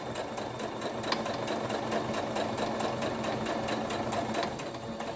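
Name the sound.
sewing machine stitching bunting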